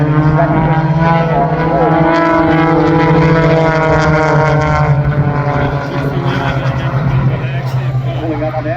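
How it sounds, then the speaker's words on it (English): Propeller aircraft in formation aerobatics at an air show, with a loud, steady engine drone and throttle changes that hold throughout, a commentator talking over it. "The aircraft on the inside has got to be playing with the throttle, maintaining that position"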